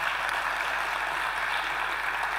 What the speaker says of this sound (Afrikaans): Julle kan ook 'n hande klap gee.